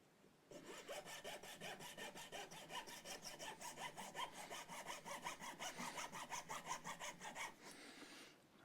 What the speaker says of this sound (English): I'm just basically trying to cut my way down to the bottom part of the nut